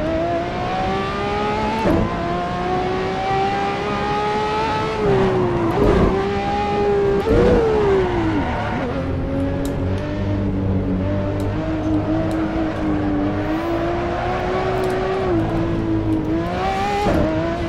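A Ferrari 599XX Evo in the Assetto Corsa racing game screams through a fast lap, its loud engine note rising and falling with gear changes, lifts and braking, accompanied by tyre noise and no voices.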